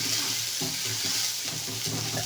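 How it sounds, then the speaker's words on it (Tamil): Sliced large onion and garlic fry in hot oil for tempering, a steady close sizzle with soft scraping stirs breaking through at intervals, no voices. "இது தாளிக்கிறதுக்கு வந்து பெரிய வெங்காயம், பூண்டு"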